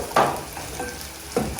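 Onions frying toward browning give a soft, low crackle in a pan, with two brief stirring scrapes standing out against the faint background sizzle.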